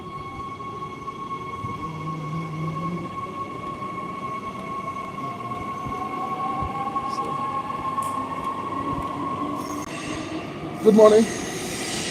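A train rumbles and hums steadily at a station for trains to Pretoria, with a long tonal whine and a brief greeting spoken near the end over the mechanical noise.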